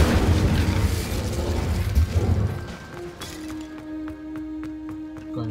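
An Incendio fire spell in Hogwarts Legacy erupts in a loud, rumbling burst with crackling debris, then fades into a tonal magical ring with bright chiming accents.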